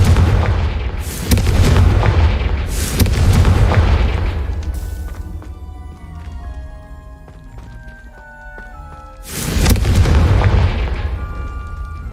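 Confringo fire spell in the Hogwarts Legacy video game: three loud, booming blasts with deep rumbling bodies, the first two close together, then a decaying tail with tonal game effects before a final explosion.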